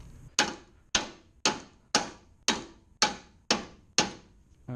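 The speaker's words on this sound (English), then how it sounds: "now we're going to hammer this forward" A hammer strikes the modular front end of a 2007–2013 MINI Cooper R56 to drive it forward, eight sharp, evenly spaced metallic blows with a short ringing decay after each, close and alone.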